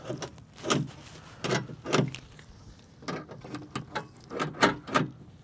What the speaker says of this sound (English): I always like to test a latch to make sure that it works